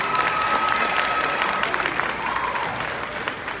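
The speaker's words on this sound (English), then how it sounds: "So let's give Celeste a round of applause." Sustained applause from a middle school graduation audience in 2023, a broad even wash of many hands clapping that tapers slightly toward the end.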